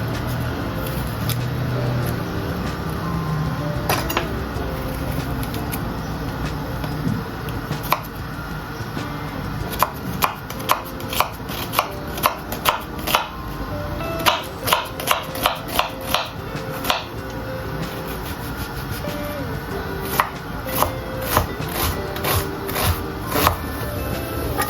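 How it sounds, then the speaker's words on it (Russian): A knife chops half an onion on a cutting board in a home kitchen, with soft handling noises at first, then a run of sharp, evenly spaced chops up close over low background hum. "Далее нарежем половинку луковицы."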